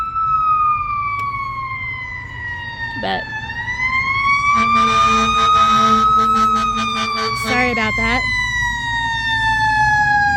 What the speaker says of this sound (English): Sadly, fire truck is coming through